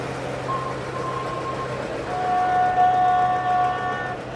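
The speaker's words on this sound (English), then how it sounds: "And then all that noise is our last entrant, which is, of course, the emergency services, the fire engine." A fire engine rolls by in a small-town harvest festival parade, its steady engine rumble carrying sustained tonal horn or siren notes that swell toward the end.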